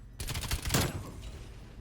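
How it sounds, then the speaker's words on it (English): Automatic gunfire in Black Ops Cold War multiplayer, a rapid string of close shots peaking in one loud blast, then fading into a softer tail of distant game noise, with no talk. "Teammate shooting at me always helps."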